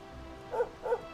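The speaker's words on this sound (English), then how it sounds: "Dog!" A dog in Dragon Quest XI gives two short barks about a third of a second apart, fairly close and clear over a soft game background hum.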